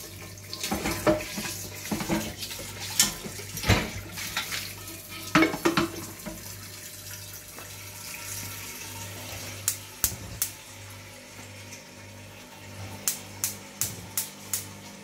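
Tap water runs into a cooking pot that will be brought to a boil, a hissing stream close by with clunks and knocks of the pot, followed by scattered sharp clinks and taps near the end.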